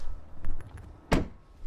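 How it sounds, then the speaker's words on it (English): A door on a 2020 Ram 2500 Laramie opens as its power-assist side step lowers, giving a few soft clicks and light mechanical movement followed by one louder thunk about two-thirds of the way through, close by with no talking. "So the step comes down when the door opens."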